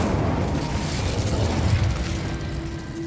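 The Incendio fire spell being cast in Hogwarts Legacy, a loud whooshing burst of flame with a rumbling low roar that stays steady for a few seconds, alone.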